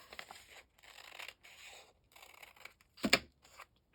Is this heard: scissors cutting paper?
yes